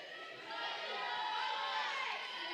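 Crowd of Cedar Park Christian fans cheering at a high school volleyball match, a steady distant roar of voices that swells slightly partway through.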